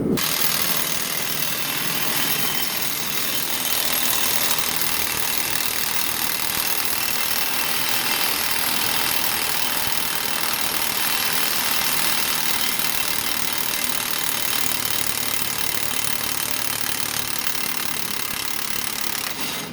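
Impact wrench hammering on the axle bolts of a Chevy C10 truck in a garage, a loud continuous rattling burst held for the full stretch, alone without talk.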